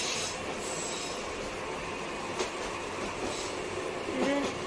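Train carriage rolling along rails on a route toward Netrokona, Bangladesh, a steady broadband rumble heard from inside the coach, with a faint squeal and a brief louder swell near the end, no talk.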